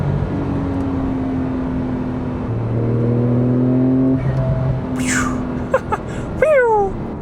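Porsche 911 Turbo S accelerating hard from inside the car, a loud engine tone climbing steadily through several gears, with sharp upshift breaks and rising sweeps near the end.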